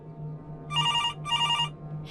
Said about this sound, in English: until the phone rang again